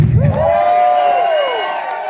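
An audience at a tribute concert cheers after a break, a loud, rising whoop over crowd noise that slowly fades.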